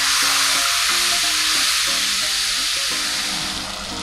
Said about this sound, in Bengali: এখন জল দিলাম।